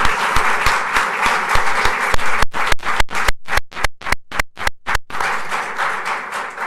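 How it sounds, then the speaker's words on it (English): An audience at a League of Women Voters candidates forum applauds the panel, sustained clapping that thins midway into a run of sharp, distinct individual claps before the fuller applause returns. "let's give them a round of applause"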